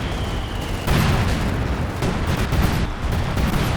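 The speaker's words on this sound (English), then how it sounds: "Oh, here come the cluster bombs." Cluster bombs going off in the Company of Heroes 2 strategy game: a dense, continuous barrage of loud booms and crackling blasts that rolls on without pause, thick and rumbling throughout.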